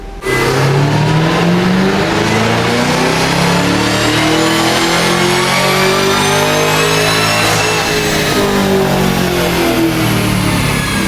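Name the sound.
supercharged car engine revving on dyno pull, carbon fiber supercharger lid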